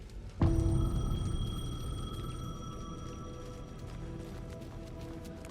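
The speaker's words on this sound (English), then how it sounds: "The payphone was ringing." A payphone in Alan Wake 2 starts with a sudden struck onset, then a sustained metallic ringing tone that slowly fades, heard alone and fairly quiet.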